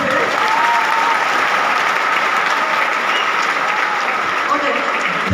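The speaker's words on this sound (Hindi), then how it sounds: "तालियां बजने की आवश्यकता नहीं है" Dense, sustained applause from a large audience at a motivational speech, loud and steady throughout with crowd noise and no pause.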